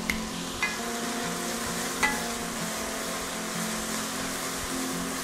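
Diced celery and onions seasoned with salt and pepper sweat in a soup pot, giving a steady soft sizzle with a few faint utensil taps near the start, continuous and fairly close.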